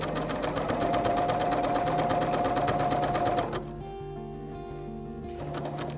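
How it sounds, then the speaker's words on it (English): A BERNINA machine fitted with a clear overlock foot stitches bias tape onto fabric, a rapid, even needle clatter that runs loud and then drops to a quieter, slower whir partway through. "While sewing, make sure that at least one needle stitches through the tape."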